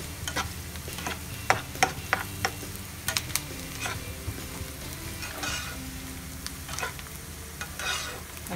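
Ginger, garlic, onion and cumin masala for prawn curry sizzling in a pan, a soft steady fry broken by repeated sharp spoon taps and scrapes as it is stirred, no talk.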